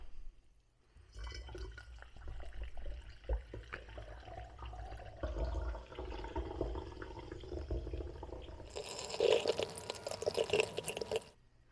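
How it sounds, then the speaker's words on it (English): Club soda fills a bottle of fruit syrup with a quiet, continuous pour and fizzing trickle that grows brighter and louder toward the end, with no voices. "the final step is we're going to add our club soda, or if you're using seltzer water, we just want to basically fill the bottle up to the top."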